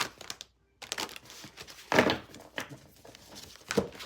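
Large tarot cards being shuffled make a series of short papery riffles and slaps at close range, irregular bursts separated by brief pauses.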